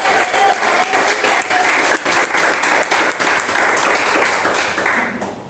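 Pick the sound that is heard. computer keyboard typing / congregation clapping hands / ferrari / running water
congregation clapping hands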